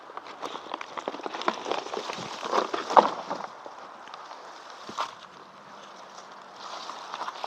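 Light drizzle falling outdoors on a surface near a bee trap, a soft steady patter with a few louder drops and faint scattered taps, no talking.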